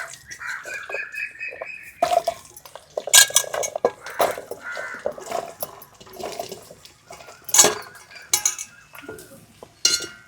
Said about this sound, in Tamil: கருவேப்பிலை நல்லா பொரிஞ்சிட்டு இப்போ மாங்காவை போட்டுருவோம்.